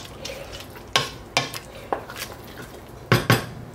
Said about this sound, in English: make sure you give it a good stir every now and then, or it's gonna burn to the bottom of the pot